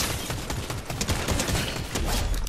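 Rapid gunfire from shooters in Fortnite, a dense, clattering burst of shots packed close together throughout, loud and continuous with no talk over it.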